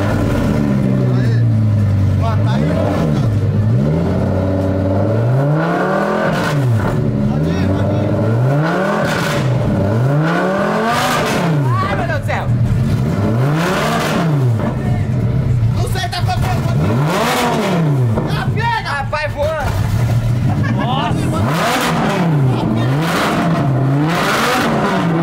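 A Lamborghini engine revs again and again with a balloon stretched over its exhaust, loud repeated swells rising and falling in a steady rhythm, with voices talking over the roar.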